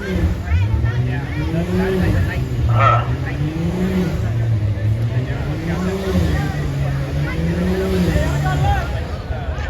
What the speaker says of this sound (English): David Elias over there on the right side trying to heat up those tires in that 22 model Toyota Supra